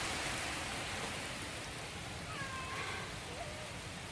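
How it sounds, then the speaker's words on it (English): Heavy rain falls steadily outside and against a window during a long stretch of wet weather on a homestead, a dense, even hiss that stays constant throughout with no talk. "You can't even see out the window for all the rain."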